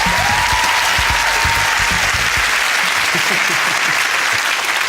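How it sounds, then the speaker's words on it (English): Studio audience applause on a dating game show, dense loud clapping sustained across the whole stretch with a few voices mixed in near the start. "give him a round of applause"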